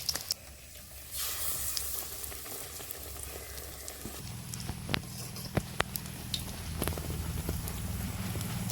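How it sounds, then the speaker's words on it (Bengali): Eggplant beguni fritters fry in hot oil with a soft, continuous sizzle, broken by scattered sharp pops and crackles that grow busier toward the end. "তেল গরম হয়ে গেছে, এবার বেগুনি ছেড়ে দিচ্ছি। হালকা করে ভেজে তুলে নিচ্ছি"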